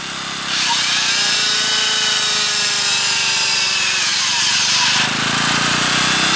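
A sizable power tool runs on electricity from a wood-stove-driven generator, giving a loud, continuous whine and grind with a sharp jump in level as the tool comes under load, then a slight easing near the end.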